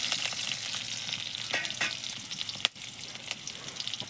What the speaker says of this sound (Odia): କଞ୍ଚା ଲଙ୍କା ପିଆଜ ଟିକେ ଭାଜିଦେବା